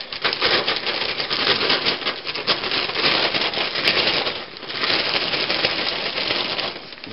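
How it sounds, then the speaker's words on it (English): Trout beads rattle inside a folded, sealed plastic bag with a few drops of paint, a dense rapid patter of small hard beads and crinkling plastic that continues for several seconds, close and loud. "We're going to take the bag, fold it over to seal it, and shake the beads around."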